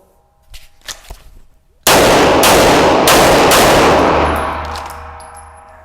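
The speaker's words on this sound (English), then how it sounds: "Let's go ahead and see how quick we are with the gun." A Shadow Systems DR920 polymer pistol fires a rapid string of about five loud, sharp shots in quick succession, ringing out and decaying after a few quieter handling sounds.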